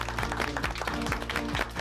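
A church congregation applauds in praise, giving dense continuous clapping with a low rhythmic pulse beneath, steady and fairly full across the whole stretch without clear speech.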